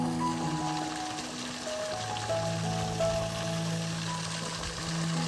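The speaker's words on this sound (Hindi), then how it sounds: "कितना अच्छा से पानी गिर रहा है, वो देखिए, नाले से पानी निकल रहा है" Rain-swollen water pours steadily out of a village drain, a continuous close splashing rush with constant trickling texture and no voices.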